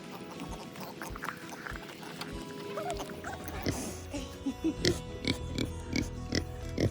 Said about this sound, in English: should we say hi to the pigs?